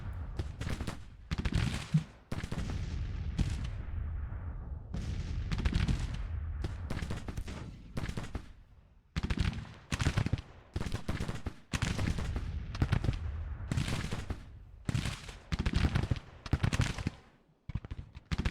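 Dense, loud volleys of musket and rifle fire crackle almost without pause in a large Civil War battle game, sharp reports overlapping in bursts with brief gaps.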